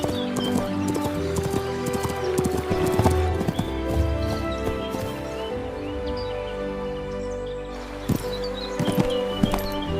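Horse hooves clip-clopping at a steady walking rhythm as a rider goes along, close and clear, with an occasional snort over a sustained musical backing.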